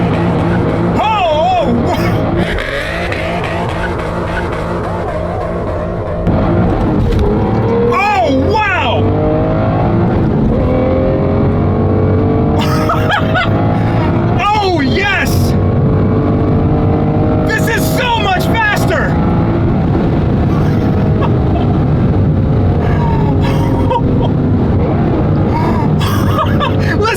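An Aston Martin DBS fitted with a $4,000 aftermarket exhaust pulls away from a stop, its engine swelling to a loud, sustained roar with rising pitch heard from inside, while people talk over it.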